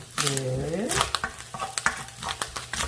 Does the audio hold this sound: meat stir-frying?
yes